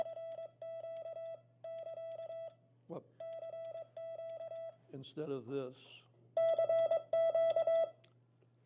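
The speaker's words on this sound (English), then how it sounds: "Both of those sounds are at the same speed, but because the ratio between DITs and DAWs is different, it sounds different." Morse code tones from a keyer kit sound in clean beeping bursts at a steady speed, with a differently weighted dit-dah pattern, broken by a short spoken phrase and a louder final run of tones.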